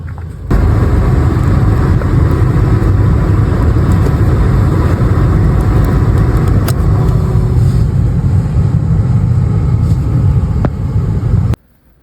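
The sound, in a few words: 1999 Mitsubishi Montero Sport engine running, then fuel-starved shutting off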